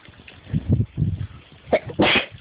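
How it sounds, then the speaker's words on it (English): A close sneeze sounds as a short burst with breathy build-up, preceded by a few soft snuffling sounds, alone and without talking. "Sneeze."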